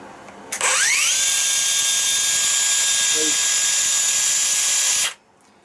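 A Ryobi One+ 18V cordless power file sander whines up to speed and runs at a steady high pitch for about four seconds, then cuts off abruptly.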